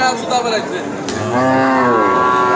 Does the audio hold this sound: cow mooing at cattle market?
yes